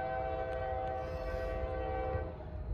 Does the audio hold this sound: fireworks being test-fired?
no